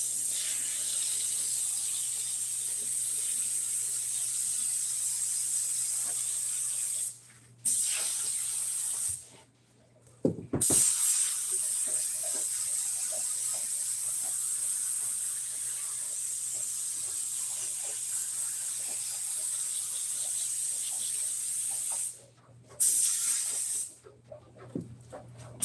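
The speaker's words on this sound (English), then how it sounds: "go ahead on and start spraying there" A spray can hisses steadily for long stretches, stopping briefly a few times before resuming, close and constant with a low hum underneath.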